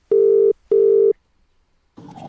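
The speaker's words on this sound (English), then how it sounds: "Just trying to get Mickey on the phone." A telephone ringback tone while calling out, two loud steady beeps with a short gap, followed by a faint voice picking up.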